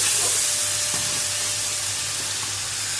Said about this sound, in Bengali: ক্যাপসিকামটা আমি হালকা করে ভেজে নিচ্ছি, হালকা করে সতে করব